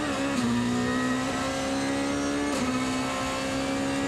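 Onboard a DTM race car at the Nürburgring during a 2020 sprint race, the engine droning loud and constant with a sustained tone that dips briefly at gear shifts, heard from inside the cockpit.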